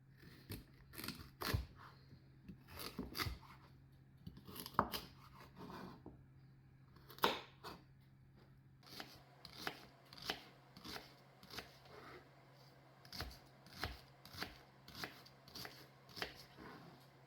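Knife chopping vegetables for a New England boiled dinner on a cutting board, crisp taps close by, irregular at first and then settling into a steady, evenly spaced rhythm.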